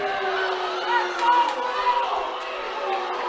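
Basketball crowd in a college gym groaning and shouting in displeasure at a foul call against the home team, a steady mass of voices with a swell in the middle, mixed under a commentator's talk.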